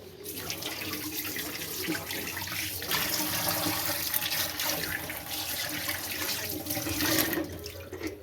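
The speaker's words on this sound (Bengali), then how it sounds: "এবার আমাকে আবার হাতটা ভালো করে ধুয়ে নিতে হবে" Hands are washed under a running kitchen tap, a steady close rush of water splashing into a sink with shifting surges as hands move through the stream, no voices.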